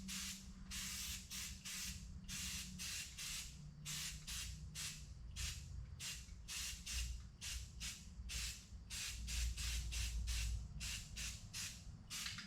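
Short repeated bursts of a spray can hissing as flat black paint goes onto masked, degreased sideboards for a 1988 Ford F700 single-axle dump truck, close and steady, with a low rumble beneath.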